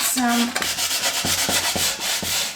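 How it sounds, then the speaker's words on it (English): Fine-grit sandpaper rubs the last of an old finish off a vintage wooden shelf, with several steady, close strokes in an even rhythm and a short tonal squeak at the start. "I'm going to take this very fine grit sandpaper"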